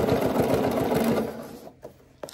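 A sewing machine stitches the seams of Cashmerette Vinton pants in a steady, close mechanical whir. The motor stops partway through, leaving faint clicks and handling noise.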